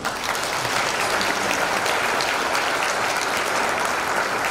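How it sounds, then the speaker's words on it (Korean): Loud, dense applause from a large congregation at a nationwide pastors and elders prayer gathering, a continuous roar of clapping close by that holds steady throughout, with no speech over it. "박수로 한번."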